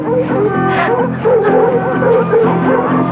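Several dogs bark, yip and whine steadily during an outdoor search, a continuous close chorus with a few overlapping voices.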